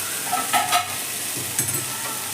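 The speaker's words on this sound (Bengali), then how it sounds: "খুলে আবারও কিন্তু আমি নেড়ে দেবো।" Capsicum and tomato curry stirred in a pan over medium heat, a soft steady sizzle broken by two short bursts of spoon scraping against the pan, close and alone with no voices.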